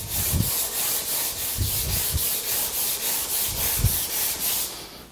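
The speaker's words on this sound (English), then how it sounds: "I have to sand this surface, but I'm going to use 120 grit" 120-grit sandpaper rubs back and forth over wood in steady rhythmic strokes, a close, gritty scratching repeated about a dozen times.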